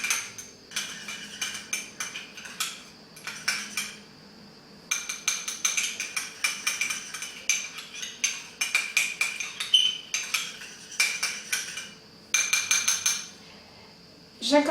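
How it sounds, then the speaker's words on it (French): Homemade dish soap gel mixed in a container, with quick irregular bursts of clinking and scraping from a utensil against the container, repeated in short clustered strokes with brief pauses. "Je vais mélanger"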